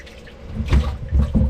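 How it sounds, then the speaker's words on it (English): Water draining from a detached muffler of a 2021 Sea-Doo RXTX jet ski whose engine is locked up, a close, uneven gurgling trickle with a few heavier splashes. "Water's still coming out of the muffler."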